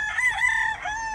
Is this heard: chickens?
yes